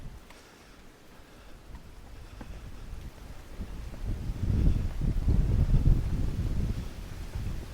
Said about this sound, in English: And it is very, very windy out.